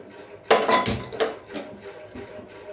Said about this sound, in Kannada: ಈಗ ನೋಡಿ ಗ್ಯಾಸ್ ಹಚ್ಚಿ ಒಂದು ದಪ್ಪ ತಳದ ಪಾತ್ರೆಯನ್ನು ಇಟ್ಕೋತಾ ಇದ್ದೀನಿ.